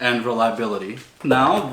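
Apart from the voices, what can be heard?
None of the usual background noises is heard.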